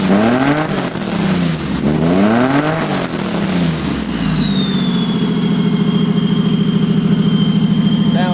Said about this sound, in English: Motor runs nice.